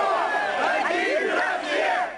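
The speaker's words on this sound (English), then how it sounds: "Their chant, all for one," A large crowd of protesters in Ukraine chants a slogan in unison, voices loud and close, rising and falling in a steady rhythmic cadence without pause.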